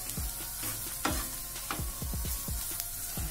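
Chili powder being stirred into a sizzling masala in a pan for stuffed bitter gourd, with steady close frying sizzle broken by repeated spoon scrapes and clicks.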